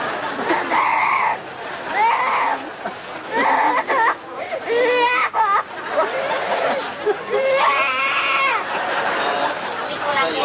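A parrot imitates a crying baby, giving loud, wailing, sobbing cries in repeated bursts with short breaks, close to the listener.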